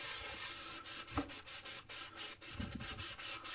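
Scrubbing a gold pan by hand, a steady gritty rubbing with short back-and-forth strokes and a couple of louder scrapes, close and alone.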